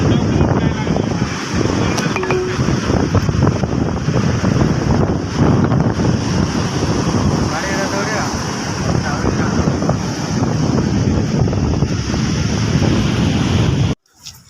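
Sea waves and strong wind on Puri beach, a loud continuous roar of surf mixed with heavy wind rumble on the microphone, sustained for most of the stretch before cutting off abruptly near the end.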